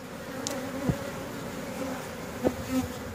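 Honey bees, many of them larger drones, hum around a backyard hive, a steady close buzz with a few brief louder passes as single bees fly near.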